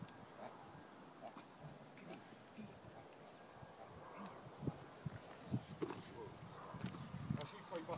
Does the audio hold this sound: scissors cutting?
no